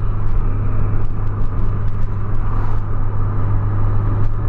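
Steady loud road rumble and whir from inside a car cruising at about 140 km/h on a highway, with a low droning hum throughout; no distinct pass-by swell stands out.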